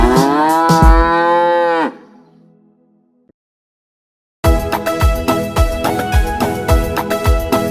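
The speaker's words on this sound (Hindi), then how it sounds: "गैया मेरी गैया, गैया मेरी गैया" A cartoonish cow moo rings out in a children's Hindi rhyme, a long harmonic lowing call that fades into near-silence, then bouncy kids' music with a steady beat takes over.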